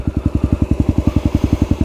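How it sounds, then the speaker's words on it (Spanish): A motorcycle creeps forward in first gear with no throttle, its engine thumping in a fast, even idle rhythm of about ten pulses per second, loud and close with no talk. "lo que quiero que practiques es que la moto se mueva sin acelerar."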